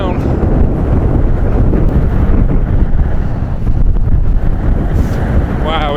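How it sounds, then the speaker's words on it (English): Strong wind funnelling down a Scottish glen, roaring continuously and buffeting the microphone close up, loud and unbroken throughout. "The glen's like a wind tunnel,"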